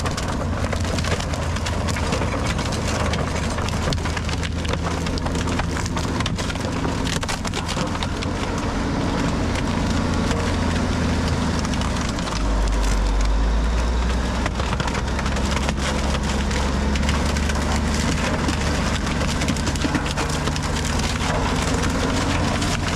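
A landfill trash compactor crushing waste with a continuous heavy rumble and dense cracking and splintering, steady and loud for over twenty seconds, with a deep engine drone rising partway through.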